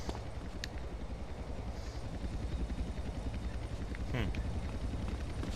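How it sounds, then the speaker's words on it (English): A helicopter in a video game thrums steadily as a low, continuous rotor drone under the game's ambient noise. Near the end the sound swells slightly louder, with a brief higher burst cutting across. "Oh, I still hear the helicopter."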